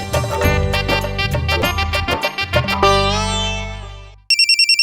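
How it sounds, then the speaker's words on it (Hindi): A phone's melodic ringtone plays loud and close as a quick tinkling tune, swells into a sustained chord, and then gives way to a short repeating electronic ring. "फोन की घंटी बज रही है।"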